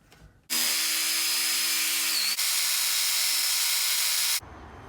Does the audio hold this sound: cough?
no